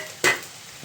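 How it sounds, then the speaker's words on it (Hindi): Jackfruit pieces sautéed with spice masala in a pan give one short, close sizzling stir scrape, then quiet cooking hiss. "और अब कटहल और मसाला साथ में भूनूंगी मैं जब तक कि कटहल पूरा पक ना जाए।"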